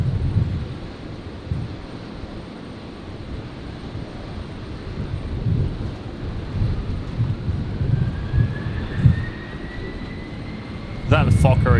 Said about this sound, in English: Is that the Fokker again doing another run-up?